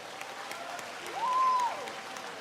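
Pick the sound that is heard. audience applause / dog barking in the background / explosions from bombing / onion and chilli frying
audience applause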